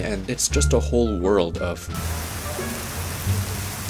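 Steady rain hiss during a Canadian spring snowmelt, with meltwater adding to the wash. A person talks over it at first, then the even broadband patter carries on alone, close and moderate.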